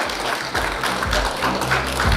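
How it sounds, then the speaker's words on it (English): A seated audience at an Indian digital advertising awards event applauds to welcome a speaker on stage, a dense, loud and steady wash of clapping that carries through the whole short stretch with no talking over it. "Let's give him a warm applause and welcome him."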